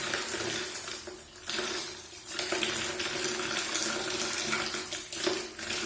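Tap water running steadily into a bathing area during a bath, a continuous close splashing stream with a few brief knocks and shifts in flow, no talking.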